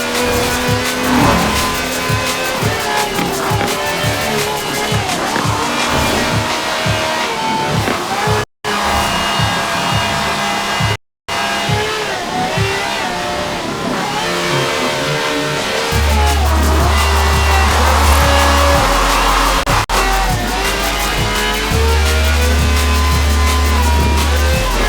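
A V12 car engine with over 750 horsepower revs loudly and continuously in the Forza Horizon 4 racing game, with two brief cuts to silence and a steady low drone joining later.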